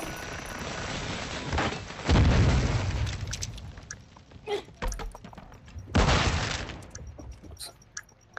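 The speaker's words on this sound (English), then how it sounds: "Stand by to detonate." Explosive devices detonating in a video game round: two heavy booms, around 2 and 6 seconds, with rumbling tails and scattered pops in between.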